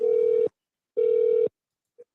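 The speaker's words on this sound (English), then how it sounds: "SEMA ain't answering the phone now" Two long steady telephone ringback tones from an unanswered call, each about half a second with a pause between, loud and clear with no voices, followed by a faint short blip.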